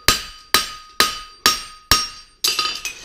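A hammer strikes a heart bar horseshoe on an anvil, five evenly spaced ringing blows followed by a quicker flurry of lighter taps, close and clear with no talking.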